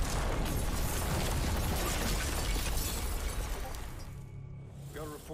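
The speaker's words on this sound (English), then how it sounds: "Got reports of multiple explosions in Verdansk." Loud, dense crashing and shattering debris roar from explosions in the game Call of Duty: Warzone, filling the first few seconds, then fading into a quieter rumble with a faint voice-like tone at the end.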